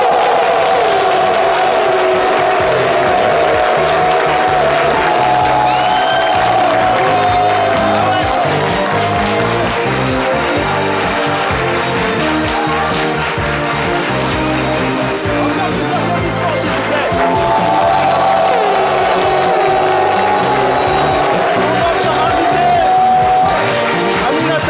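A studio audience claps and cheers to welcome a guest onto a television talk show, the crowd noise mixed under loud, continuous music with a tonal melody running throughout.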